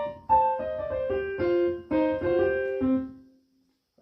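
A blues piano right-hand riff variation played solo: a quick run of sliding, stepping notes in a few short phrases that lands on a held low note and fades to silence.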